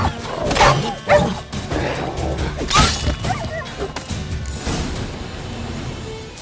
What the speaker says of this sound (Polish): Dobra, to teraz będziemy zabijać dzikie psy.